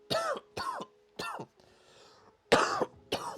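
Several harsh coughs come in quick bursts close to the microphone, with a short quieter pause of breathy noise in the middle.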